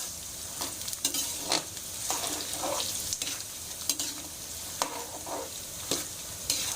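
Food fries in a pan with a steady sizzle, broken by repeated scraping clicks as it is stirred every second or so, fairly close and with no voices.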